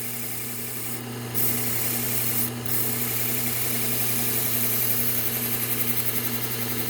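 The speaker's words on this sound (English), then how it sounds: "since they're mine, I'm going to go ahead and sharpen these up. We're going to use the Trizact" Steak knives sharpened on a Trizact A30 abrasive belt: a steady rubbing grind over a constant motor hum, with two brief brighter bursts of contact near the start.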